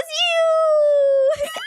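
A single long, drawn-out meow from a cat character in the Roblox game, steady and loud, followed by a brief burst of a voice.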